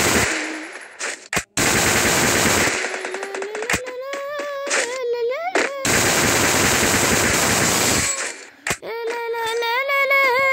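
Rapid automatic gunfire in a shooter video game crackles loud and close in long continuous bursts, separated by short gaps and brief tonal game sounds.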